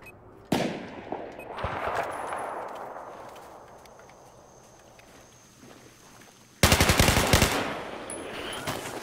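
Gunfire in Battlefield 4: a sharp burst of shots that fades into a decaying echo, then a loud, rapid automatic volley near the end.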